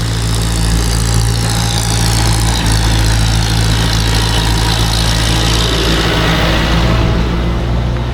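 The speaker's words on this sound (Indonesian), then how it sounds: "Ketemu traktor, guys." A tractor engine idles nearby on a downhill mountain-bike trail, a steady low rumble with harmonic drone holding loud and constant throughout, with no talking.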